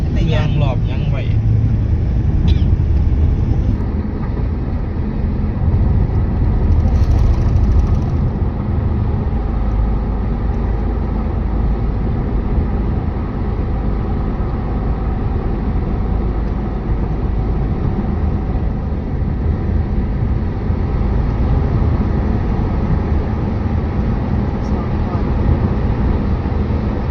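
A car descending a hill in low gear on a two-lane road, engine revs held up: a continuous loud road and engine roar with wind noise throughout, while people talk over it.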